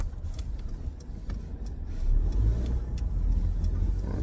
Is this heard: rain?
no